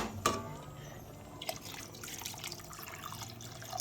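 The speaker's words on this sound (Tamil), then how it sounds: "இப்போது 2 டம்ளர் தண்ணி ஊற்றணும்." Water poured from a tumbler into a pot of mutton biryani, a soft, continuous splashing trickle that follows an earlier drip and stays fairly quiet and close.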